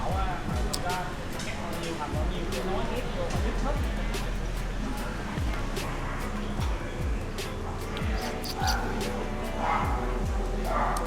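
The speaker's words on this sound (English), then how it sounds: "Check out this little dog." A little dog yips and barks in short repeated bursts on a busy street in Vietnam. A person talks over it with traffic noise behind.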